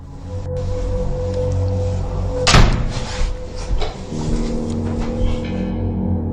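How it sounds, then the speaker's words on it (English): A door swings shut with a sudden loud bang, followed by a brief rattle and low rumble over steady background hum. "The door all of a sudden closes on its own."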